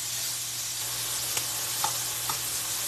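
Chicken pieces sizzle steadily in a hot pan for a grilled chicken salad, a continuous close frying hiss with a few faint scrapes and taps as the meat is turned over.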